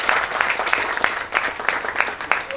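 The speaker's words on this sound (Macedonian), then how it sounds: "Еден мал аплауз" Brief round of audience applause at a village cultural gathering, many hands clapping in a busy, uneven patter with louder individual claps popping out, fairly close and continuous.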